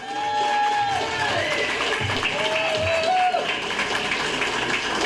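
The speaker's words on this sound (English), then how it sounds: "Dean Cavaretta, let's give him a big round of applause." Loud crowd applause and cheering at a Donald Trump political rally in Massachusetts, a dense continuous roar of clapping with voices shouting through it for several seconds.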